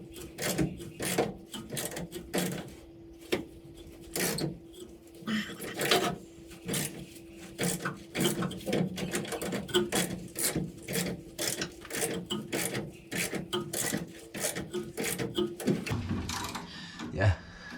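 Crud-clogged threaded part on a 1971 VW T2 bay window bus being worked back and forth by hand, giving repeated rasping, scraping strokes in an irregular rhythm, close and fairly loud, with a few faint thumps.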